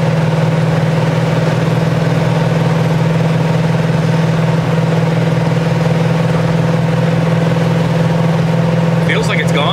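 A Pontiac with a 455 engine drives along a road, its steady low engine hum and tonal drone continuous and loud from inside the car, with a voice speaking over it.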